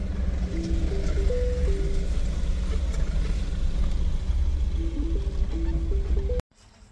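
A Mahindra Bolero, whose rear leaf spring had been making noise, drives forward with its engine rumbling steadily under a repeating melodic reversing-style chime, then cuts off abruptly near the end.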